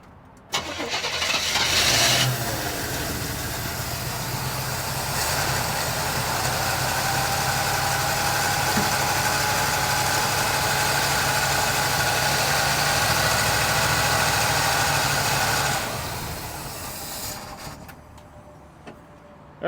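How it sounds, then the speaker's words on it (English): Barn-find Chevelle with a freshly rebuilt Rochester two-barrel carburetor cranking for a moment, then catching and running at a steady, rough idle for about fifteen seconds before shutting off, close and fairly loud. "now put the key in and crank"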